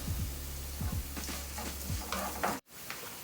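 Onions and spices for a yellow pumpkin fry (poosanikai varuval) sizzle steadily in a pan while a spoon scrapes and stirs close by, with a brief break near the end.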